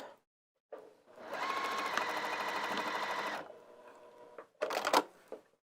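A domestic sewing machine runs a zigzag stitch on lounge pants, a steady mechanical whir for about two seconds between short bursts and clicks of starting and stopping.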